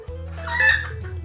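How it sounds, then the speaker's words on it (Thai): Hen clucking close by in a coop, a single drawn-out rising cluck, loud and clear with no talk over it. "ไก่ผมกวนเต็มทีละเพราะว่าอีตัวเนี้ยมันจะขึ้นไปฟักไข่ตรงนี้"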